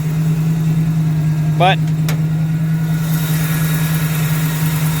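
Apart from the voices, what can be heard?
rebuilt AMC 304 V8 engine of 1979 AMC AMX idling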